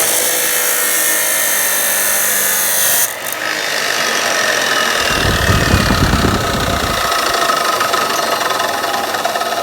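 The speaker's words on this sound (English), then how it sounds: "chop saw time." A chop saw whines steadily, then bites into material with a louder, rougher grinding burst midway before easing back to its running drone.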